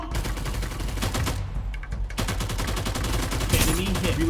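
Rapid bursts of gunfire from an online shooter video game, loud and repeated in quick volleys with a short lull, then renewed firing; faint voices and game sounds sit underneath.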